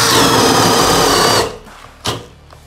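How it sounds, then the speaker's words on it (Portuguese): A Bosch GSB 185-LI cordless drill in gear position 2 spins a 32 mm spade bit, giving a loud, steady high whir for over a second before it stops, followed by a brief knock. "Agora a broca chata de 32 mm, com a posição 2 ativada."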